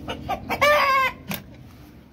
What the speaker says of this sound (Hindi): कुछ है भी इधर नहीं, मुर्गी है इधर।